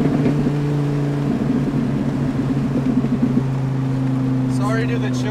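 A 2005 Dodge Viper SRT-10 V10 rumbles while driving, a loud steady drone that shifts pitch partway through, with a voice speaking over it.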